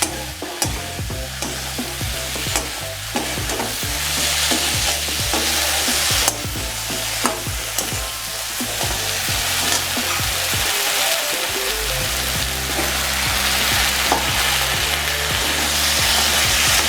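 Okra frying in oil in a pan for a Bengali rohu fish curry, a loud continuous sizzle broken by repeated scraping and clattering stirs, close up with no voices.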